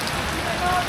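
Steady heavy rain pouring down during a typhoon, a dense even hiss of drops on surfaces, close and constant with no talk.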